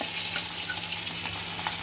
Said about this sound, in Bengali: এবার আমি ওর মধ্যে ফার্স্ট টাইম কাঁচা লঙ্কাগুলো দিয়ে দেবো।